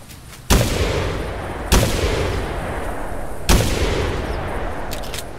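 Three loud gunshots from a goose-hunting game, each a sharp blast followed by a long rumbling tail, spaced unevenly over a few seconds with no talk.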